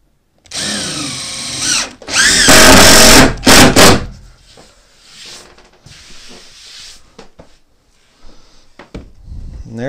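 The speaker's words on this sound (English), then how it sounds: "let me just put two screws in" Screws go into wood under a noisy power drill: a few loud whirring bursts with pitch sweeps early on, then quieter clunks and faint handling sounds, no voices.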